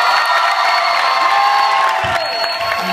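Students at a final dance give a last round of cheering and applause, a dense crowd roar with whoops over steady clapping, loud and sustained.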